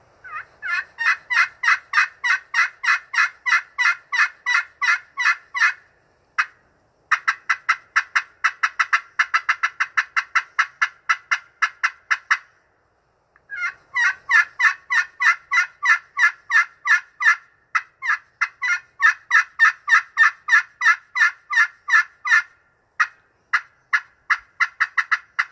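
A turkey friction call worked with a two-piece diamond wood striker gives long runs of rapid, close, loud yelps, each with a high front end rolling into a raspy back end, broken by two short pauses.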